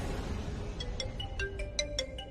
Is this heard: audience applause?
no